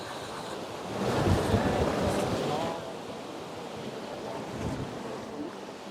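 Ocean surf at Myrtle Beach, South Carolina, washes in with a broad hiss and rumble that swells and eases, mixed with wind buffeting a nearby microphone.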